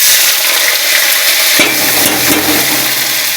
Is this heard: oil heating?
yes